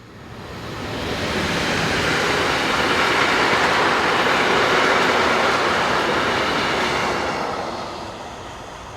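A train on a European railway line passes by, a broad rushing rumble swelling up, holding loud for several seconds, then fading away, with no voices.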